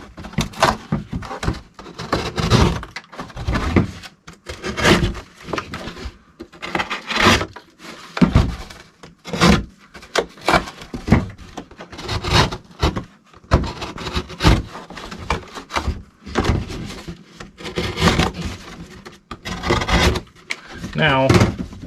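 Cardboard shipping-box corners being trimmed by hand, heard as a string of close, irregular scraping and cutting bursts with brief pauses between them.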